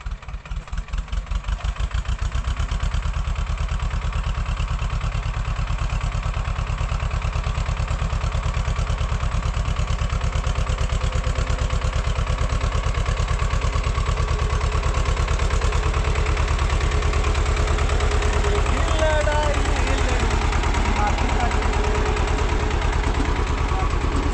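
A tractor engine chugs steadily and loudly for the whole stretch, a constant rhythmic thrum with faint music barely audible underneath.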